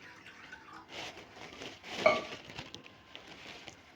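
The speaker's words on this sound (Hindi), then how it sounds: "ये तकरीबन 2 गिलास पानी के ये डालेंगे।" Roughly two glasses of water are poured into a kadhai on a lit stove, a soft close splash and trickle with a brief louder gush midway and faint clinks, without voices.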